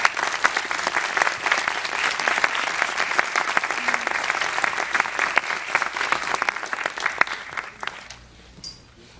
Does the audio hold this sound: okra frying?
no